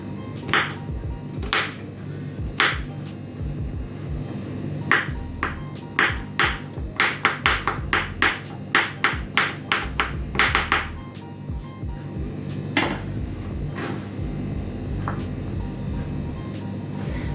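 Fresh unpeeled vegetables are sliced with a knife on a board for fritters, a run of sharp close chopping taps, sparse at first, then quick and regular in the middle, then thinning out.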